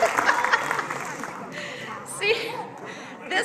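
Scattered audience clapping at a high school graduation ceremony, a brief burst of hands that quickly thins out beneath a speaker's voice and crowd murmur in a large venue.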